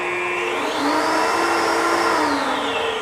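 Steady, loud whirring from a QAV250 quadcopter's motors under throttle, rising in pitch as they spin up, holding, then easing down slightly, with a high whine over a broad rushing noise.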